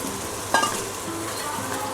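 Cabbage tipped into green onions frying in a pan, a brief clatter as it lands, then a steady sizzle that continues throughout.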